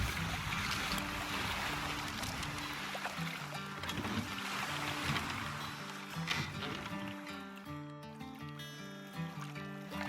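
A boat drifts on a river in the video game The Flame in the Flood, its soft water wash running steadily beneath prominent game music throughout.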